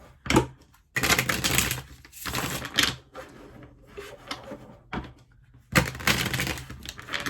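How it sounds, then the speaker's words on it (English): A deck of cards being shuffled close by in several quick bursts of riffling and rustling, separated by short pauses. "I'm going to shuffle these really quick"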